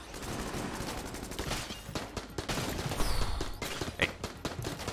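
Dense, rapid gunfire crackles in Enter the Gungeon, the bullet-hell dungeon shooter, a continuous barrage of enemy shots and bursts with no voices over it.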